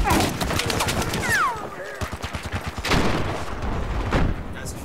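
In Battlefield 4, gunfire and artillery fire roar together in a busy firefight, with rapid bursts, heavy booms and whistling rounds, while players talk over the din.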